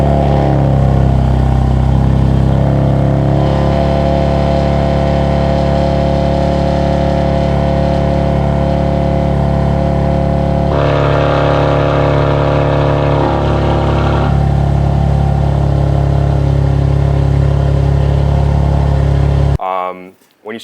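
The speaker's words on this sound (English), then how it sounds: "So the cold start, you probably heard in the beginning of this video or towards like right now." BMW G80 M3 with an aftermarket active exhaust, engine idling high on cold start with a loud, steady droning rumble and shifting tone before cutting off abruptly near the end.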